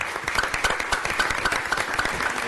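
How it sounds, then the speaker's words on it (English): Indoor audience applause for gymnastics staff at a presentation, a dense, steady patter of many clapping hands with a faintly rhythmic pulse, moderately loud and continuous. "So let's give them a round of applause."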